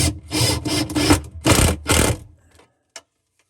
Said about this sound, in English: we're gonna put our last screw in this panel